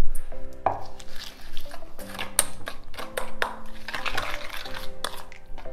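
A spoon mixes peanut butter sauce with sesame oil and lemon juice in a bowl, making close clinks, scrapes and soft wet stirring sounds in an irregular rhythm.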